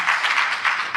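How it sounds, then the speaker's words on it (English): Brief burst of audience applause for panelists at a healthcare policy discussion, a dense soft wash of clapping swelling and dipping over about a second. "Please a round of applause for our panelists."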